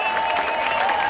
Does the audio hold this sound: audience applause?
yes